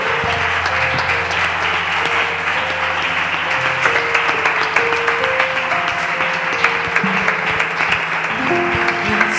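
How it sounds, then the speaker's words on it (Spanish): A crowd applauds steadily for several seconds in a Pentecostal evangelical church service, dense clapping filling the room while music with sustained tones plays underneath. "¿Damos un aplauso a Cristo?"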